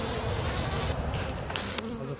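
A dense, steady buzzing of honeybees at a hive in spring hums close by, continuous and moderately loud, with a brief sharper tick near the end.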